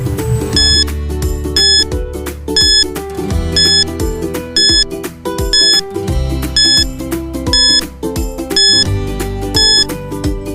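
A quiz countdown timer plays as a looping electronic tune with regular beeping ticks and chiming tones, loud and steady for about ten seconds with no voices.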